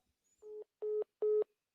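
Three evenly spaced electronic beeps, each about a fifth of a second, signal a call connecting on a live call-in phone line, clean and alone against silence.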